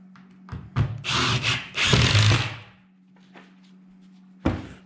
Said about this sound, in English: I like to put a screw in between each one of them, between your middle and your end.